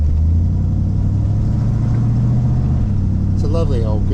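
Deep, loud rumble of a custom American car built by Doug Thompson, idling steadily with a low burbling engine note that shifts slightly, while someone talks briefly near the end.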